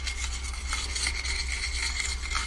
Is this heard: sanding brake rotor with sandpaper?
yes